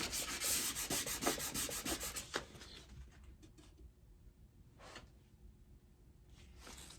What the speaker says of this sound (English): The more I sand, the more sticky stuff I see.